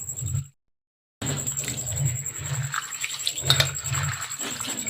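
Wheat grains are rubbed and washed by hand in water, making close sloshing and churning swirls with a brief gap of silence near the start, then continuous wet rubbing with soft splashes.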